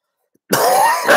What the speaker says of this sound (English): forgive my cough, guys.